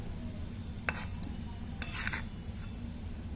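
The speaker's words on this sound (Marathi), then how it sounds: "आता हे छान हलवून घ्यायचंय" A spoon stirs garlic pickle with fresh lemon juice in a kadhai taken off the heat, giving a few light metallic clinks and scrapes against the pan over a low, steady background hum.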